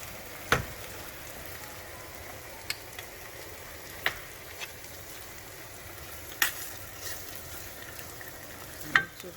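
Pepper and paprika fry in a pot for egusi soup, a soft, even sizzle broken by a few scattered louder pops and crackles.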